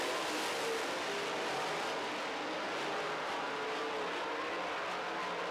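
Late model stock cars racing around a dirt oval during a feature event, a dense, constant roar of engines at full throttle, loud and unbroken throughout.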